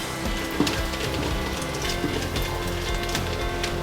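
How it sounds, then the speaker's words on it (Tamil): Ginger and garlic sizzle in hot frying oil as part of chicken fried rice, making a constant close crackling hiss with a few small pops and no talking. "எண்ணெய் சேர்த்துட்டு வச்சுருக்க இஞ்சி பூண்டு இதை வந்து ஒரு 30 செகண்ட் போல் ஒரு எண்ணெயில் கொஞ்சம் நல்லா வறுத்துக்கோங்க."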